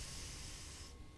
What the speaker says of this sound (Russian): шумно вдохнуть